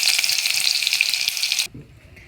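Potatoes fry in hot oil in a wok, making a steady, loud, crackling sizzle up close that cuts off abruptly, leaving only faint low background sounds.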